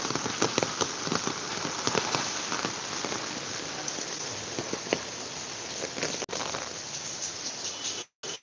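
Heavy, sudden rain pours onto surfaces in a dense, continuous hiss with scattered sharper drops and splatters, loud and close, briefly cutting out near the end.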